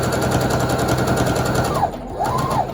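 Sewing machine stitching a fabric face mask, a loud, fast continuous mechanical rattle running steadily before a short pause and a brief restart.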